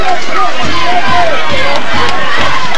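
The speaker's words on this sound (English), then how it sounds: "You can hear the noise, a lot of fan reaction" Fans at a 1992 Frontier versus Woodsfield high school football game roar from the stands in a loud, continuous crowd swell with rhythmic stamping or thumping underneath.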